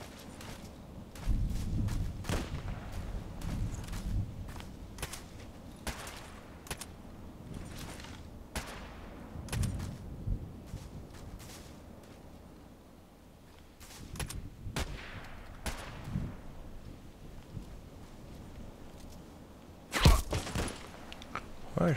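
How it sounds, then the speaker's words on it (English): Sniper rifle shots during sniper training, a series of sharp, fairly distant cracks spaced irregularly over a low rumbling background, with a louder close report near the end. "I think he's using really precise shots,"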